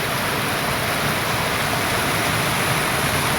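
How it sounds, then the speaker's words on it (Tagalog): Strong, fast-flowing water of the Malaunay river in Valencia, Negros Oriental, a loud, steady rushing roar that fills the whole stretch with no talking over it. "pakita niyo ang tubig no, kusog ang tubig"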